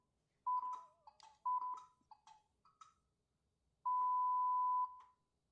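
Several electronic beeps in a rapid sequence, ending in a longer sustained tone; clear, close, and alone in a quiet room.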